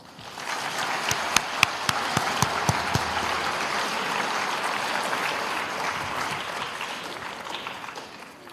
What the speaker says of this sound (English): Would everyone please join me in a round of applause to thank Dr. Travis Roundcount and Mr. Brian